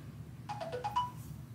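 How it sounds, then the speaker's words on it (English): A phone rings indoors with a short run of about five quick electronic tone pulses, fairly quiet against a low room hum, with no talking over it. "that's my phone."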